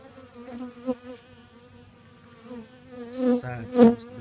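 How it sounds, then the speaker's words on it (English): Honey bees buzz around an open hive during an inspection, a close humming drone with individual bees swelling louder as they pass near, growing busier toward the end. "Side seems to be slam full of bees"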